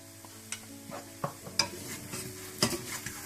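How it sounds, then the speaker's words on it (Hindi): An aloo paratha fries in butter on a pan with a soft, steady sizzle, broken by a few sharp clinks and scrapes of a utensil against the pan; no one speaks. "एक साइड पकने के बाद आप दूसरी तरफ भी मक्खन डाल दें"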